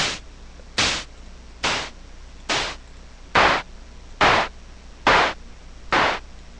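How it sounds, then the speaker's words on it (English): Seven harsh, distorted white-noise clap bursts run through overdrive distortion hit at a steady, evenly spaced rhythm, each a gritty clap-like crack with a quick decay over faint hiss. "you have an instant distorted clap style"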